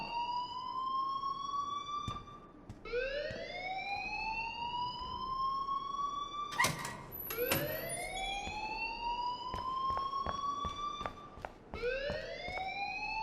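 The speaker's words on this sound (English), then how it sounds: "please turn off that alarm since that's your job" An alarm ringing in the video game Life is Strange, a loud repeating rising siren-like whoop in regular cycles with brief clicks and clatter mixed in.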